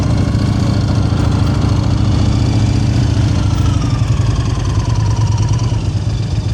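A motorcycle engine runs close and loud at a steady low throb during a stopping practice drill, with a faint pitch drift midway and no talk over it.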